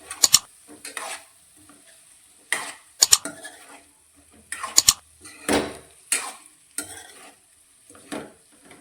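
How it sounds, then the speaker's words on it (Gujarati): Puffed rice balls tossed with spices in a kadai, heard as clusters of sharp metal spoon scrapes and knocks separated by quiet gaps, close and fairly loud, with a faint sizzle underneath. No speech. "મમરાના બોલ્સ તૈયાર કરીને રાખ્યા છે તેને આપણે કઢાઈની અંદર લઈ લઈશું ને તેને સારી રીતે મિક્સ કરીશું."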